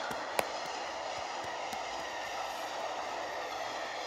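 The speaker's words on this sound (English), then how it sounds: "Comes a different train." An electric train rumbles past with a steady rushing roar and occasional sharp clicks from the rails, moderately loud and sustained throughout.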